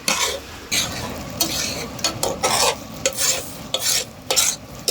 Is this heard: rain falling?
no